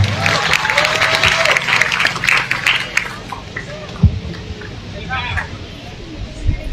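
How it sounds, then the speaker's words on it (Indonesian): An audience at a university public lecture claps for the speaker, a dense burst of applause that fades after a few seconds into quieter room noise. "Kasih aplaus terlebih dahulu untuk pemateri kita."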